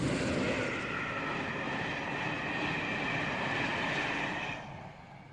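An InterCity 225 train hauled by a single independent locomotive rumbles past in a loud, steady roar of rolling wheels that fades toward the end.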